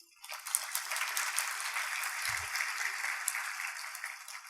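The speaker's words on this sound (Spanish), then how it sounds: "un aplauso para ellos" A church congregation applauds, producing a thin, somewhat distant patter of many hands that starts abruptly and holds steady without any talking.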